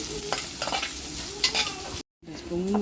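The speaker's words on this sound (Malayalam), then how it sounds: "നന്നായിട്ടൊന്ന് ഇളക്കി കൊടുക്കാം" Ginger, garlic and pickle fish fry in a pan with a close, steady sizzle while a utensil stirs and scrapes in short strokes, broken by a brief silent cut.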